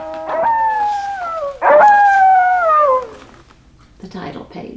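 People imitate wolves, letting out two long sliding howls one after another, loud and close, followed by a brief fainter vocal sound.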